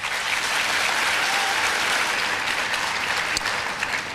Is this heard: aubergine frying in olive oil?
no